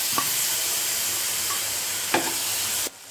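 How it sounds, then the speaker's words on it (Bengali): Onions fry in hot oil for a cauliflower roast, a steady loud sizzle with a couple of stirring scrapes, before the ginger-chili paste goes in; the sizzle cuts off abruptly at the end. "পেঁয়াজ দিলাম পেঁয়াজগুলো ভাজা ভাজা হবে"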